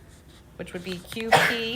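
A single close sneeze bursts out partway through a geometry lesson, coming right after a teacher's spoken words.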